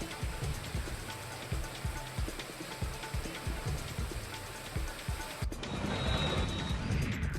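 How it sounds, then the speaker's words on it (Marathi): Heavy unseasonal rain driven by strong wind in Kolhapur falls as a dense, steady wash with repeated pattering hits, continuous and fairly close, with no talking. "कोल्हापूर शहरासह ग्रामीण भागामध्ये जोरदार वाऱ्यासह अवकाळी पाऊस बरसलाय"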